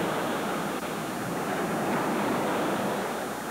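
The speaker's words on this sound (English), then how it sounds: "Waves much smaller than yesterday's, continuing to beat the dike walls today." Lake waves from flooding in Monroe beating against dike walls, a continuous broadband surging roar with wind buffeting the microphone, steady and loud throughout.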